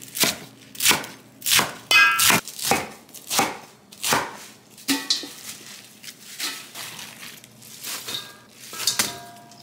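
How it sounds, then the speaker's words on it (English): Sharp, rhythmic knife chops through napa cabbage for kimchi on a cutting board, about a dozen close, loud strikes with a ringing clang to each, no voices. "Now I'm just gonna chop and make them into small pieces"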